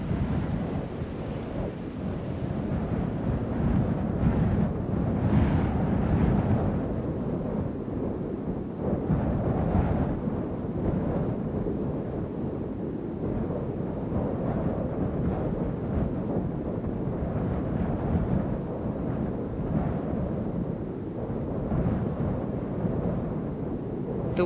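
Steady roaring wind fills the whole stretch, a dense broadband rush with gusty swells, close and loud like a stormy gale used as a sound effect, with no voices.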